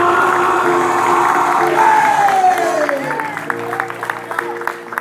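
A church congregation applauds during a Portuguese-language service, a steady wash of clapping with a few cheers, over sustained music and voices that fade toward the end.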